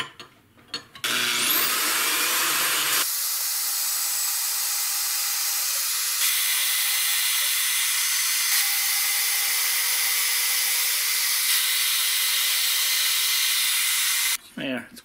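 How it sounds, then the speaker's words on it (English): A bandsaw cuts through excess weld on an aluminum boat dock bracket, a loud, steady, high-pitched grinding whine that runs unbroken for about thirteen seconds before the blade stops. "the fastest way to do that would just be to run this down the bandsaw"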